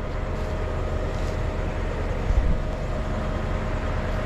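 A vehicle, likely a truck, driving out to a timber storage yard in a forest, giving a steady low rumbling engine and road drone throughout, with a brief louder bump partway through and no talk.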